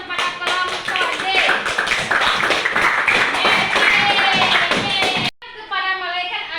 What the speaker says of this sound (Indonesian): Beri tepuk tangan kepada kelompok D